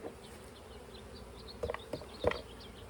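Honey bees buzzing around a hive feeder during a swarm-prevention split, a faint steady hum with a few louder close passes of single bees.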